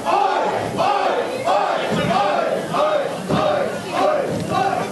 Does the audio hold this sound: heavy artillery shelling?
no